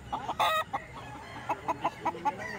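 Roosters and stag chickens at a market give a short loud crow followed by a run of rhythmic clucks, close by against a quiet background.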